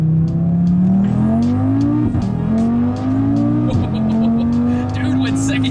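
A 600HP Audi RS3 with a five-cylinder engine pulls hard under loud exhaust, its rising drone cut by two quick gear shifts before it climbs again, heard close from inside the car.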